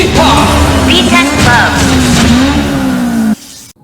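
Honda FN2 engine revving loudly and steadily for about three seconds, its pitch rising and falling slightly, before cutting off abruptly near the end.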